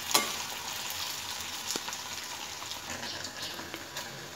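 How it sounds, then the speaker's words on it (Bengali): Paneer pieces frying in a pan over low gas, a dense continuous sizzle and crackle with scattered small pops and clinks, close and steady, no speech. "পনিরের টুকরোগুলো ভাজা হয়ে গেছে"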